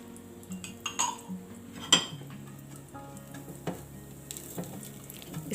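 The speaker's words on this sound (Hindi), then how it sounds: "इसको धीमी आंच पे हम रोस्ट करेंगे कि इसका थोड़ा सा कलर जो है वो ब्राउन हो जाए" Semolina roasting in ghee in a pan over low heat, stirred with a utensil that scrapes and clinks against the pan under a soft, steady sizzle, with occasional louder knocks, close by and without talking.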